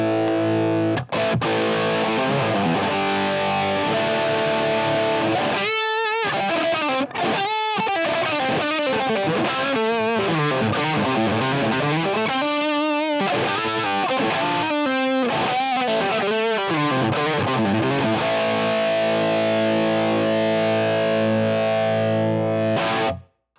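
Electric guitar with a SolderX switching mod in pickup position 2 plays distorted sustained chords and a quick melodic run, loud and close, ending on a long held chord that cuts off abruptly.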